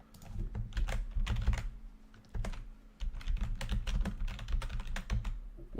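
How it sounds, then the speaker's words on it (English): Close, fast typing on a computer keyboard in bursts of clattering keystrokes with short pauses between, loud and alone with no talk. "you're gonna get keyboard noises."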